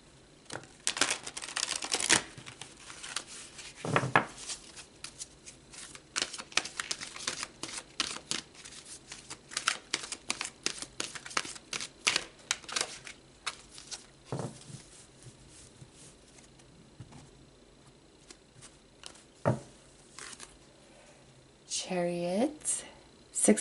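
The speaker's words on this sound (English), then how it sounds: "So let's pull some more cards." Tarot cards are shuffled and drawn close by in a quiet room as a rapid run of soft, papery flicks and taps. Cards are laid down at scattered intervals under soft talking.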